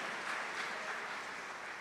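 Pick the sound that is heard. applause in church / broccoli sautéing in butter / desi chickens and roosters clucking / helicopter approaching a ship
applause in church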